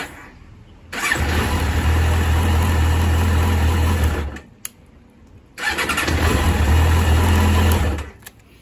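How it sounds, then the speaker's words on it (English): A Suzuki RF900R motorcycle engine, warmed up after an engine swap, runs loud and close in two sustained stretches of several seconds each, separated by a brief quiet pause. "The bike running great, really easily starts up."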